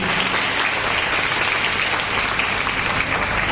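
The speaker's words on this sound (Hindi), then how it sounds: "Give a huge round of applause, please." Audience applause at a farewell achievers' meet in Delhi, a dense, steady wash of many hands clapping close and loud throughout, with no talk over it.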